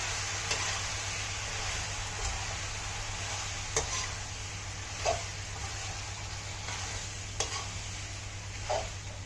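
Pasta is stirred and tossed in a pan for a Mediterranean dish, with a steady low sizzle, periodic spatula scrapes and a constant background hum.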